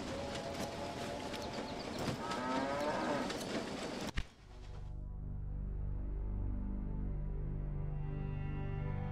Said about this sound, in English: A lot of cows heading up to Buffalo.